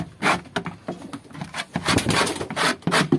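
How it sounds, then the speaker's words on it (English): A big scraper rasps over the wooden nest boxes of a pigeon loft in quick repeated strokes, close and loud, with a rough rubbing and scratching texture and no talk. "showing you how I scrape my nest boxes. I have this big scraper."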